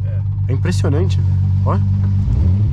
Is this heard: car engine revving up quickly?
yes